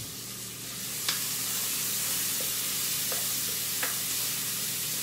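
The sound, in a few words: shallots, garlic and chorizo sautéing in a pan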